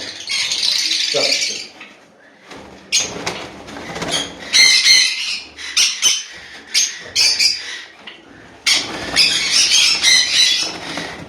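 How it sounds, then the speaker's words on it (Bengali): Conures, java sparrows and lovebirds in a home breeding aviary squawk loudly in repeated harsh bursts, with chirps and rattling in between and brief gaps of quiet. "দাদা এসছে বলে এত ছটফট করছে পাখিগুলো আর চারিদিকে এরকম পাখির আওয়াজ"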